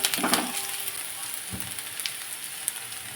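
Green chili slices sizzle steadily in oil in a pan with occasional stirring clinks, close and continuous.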